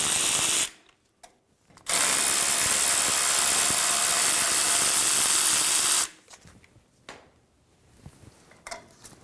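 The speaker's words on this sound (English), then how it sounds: "remove the caliper bolts" Power tool whirring in two sustained bursts on 17mm Toyota Tacoma caliper bolts, loud and close, separated by brief quiet gaps with light clinks.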